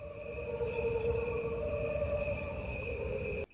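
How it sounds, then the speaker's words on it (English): A dense chorus of crickets plays as a recording, a steady layered trilling with several sustained pitched tones, fairly faint and alone, cutting off abruptly just before the end. "Here's how God's chorus of crickets appears on a spectrogram."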